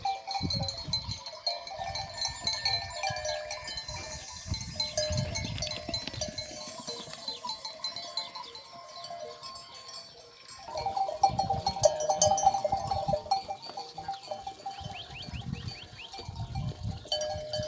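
Goats grazing on a highland summer pasture, scattered bleats and faint clinking bells over a quiet outdoor background, some animals nearer than others.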